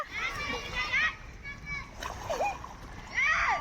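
Children splash and play in canal water, with repeated splashes and excited kids' voices in the background.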